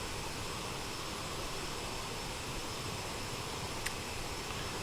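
A flight simulator game's CRJ700 cockpit carries a steady jet engine drone and airflow hiss, uniform and loud with no voices, and one brief faint tick near the end.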